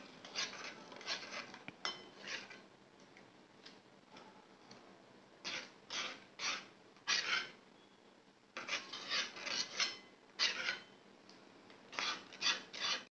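Spoon scraping and stirring a kalonji hair remedy in a bowl, with repeated gritty rasping strokes in bursts, close and fairly loud, no talking.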